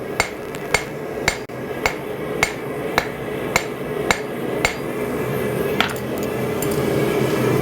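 Hammer blows flattening a rivet head on a pair of forged blacksmith tongs at the anvil, about a dozen sharp metallic strikes at a steady, unhurried pace, close and loud over a low shop hum.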